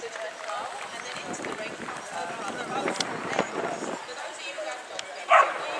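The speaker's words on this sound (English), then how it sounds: "out goes the toller first." A Nova Scotia Duck Tolling Retriever runs across open ground at a game fair, quick padded footfalls and rustling, with a yip and murmuring voices in the background.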